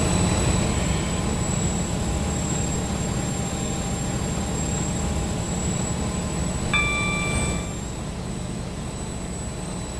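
In the Roblox game Stepford County Railway, a Class 43 HST Stepford Express train runs with a steady, loud engine drone and rolling rumble, a brief chime near the end, and no talking.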